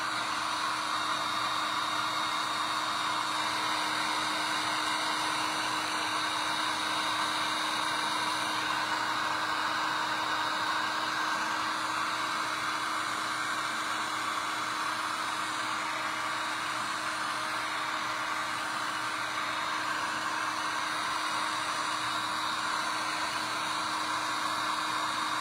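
A hair dryer blows steadily and close by, drying a freshly painted poinsettia Christmas ornament, its even rushing whir running unbroken for the whole stretch with no talk.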